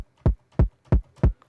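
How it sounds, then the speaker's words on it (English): Four evenly spaced distorted kick drum hits, punchy and gritty with extra upper bite, played alone at a steady tempo. "Yes, I add distortion to my kick drum"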